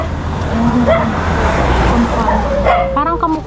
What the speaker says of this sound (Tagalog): Wala, may aso.